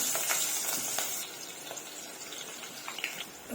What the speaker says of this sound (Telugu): నూనె కొంచెం పొడి అయితే వేస్తున్నా అండి నాకు అలవాటు అండి ఇలా వేయటము ఉల్లిగడ్డ ముక్కలు అయితే వేస్తున్నా